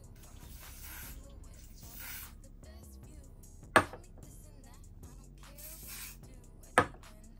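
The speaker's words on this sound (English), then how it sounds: "I'm going to put a little bit of hairspray" Two short, sharp hairspray bursts hiss onto a wig a few seconds apart, close and brief, amid soft handling rustle.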